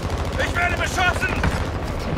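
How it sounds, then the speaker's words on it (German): Rapid automatic gunfire in Call of Duty: Warzone 2 on Ashika Island, dense rattling bursts close and loud, with game voices over them. "Ich werde beschossen!"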